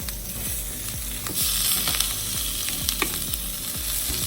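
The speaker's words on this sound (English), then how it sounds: "I'm frying it without oil" Pork chops fry in a dry pan without oil, giving a continuous loud sizzle with a repeated low thumping pulse underneath and occasional sharper pops, close and steady throughout.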